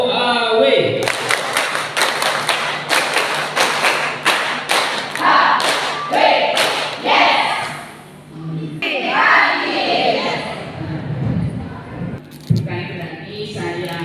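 A group claps in a quick rhythmic pattern at an orientation event, sharp slaps in a set sequence, then the claps stop and voices and room noise carry on.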